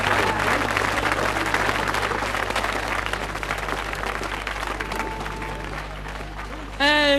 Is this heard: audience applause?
yes